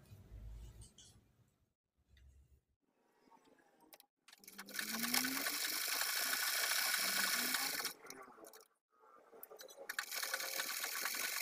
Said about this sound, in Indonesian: ini kita jahit sama seperti yang di atas tadi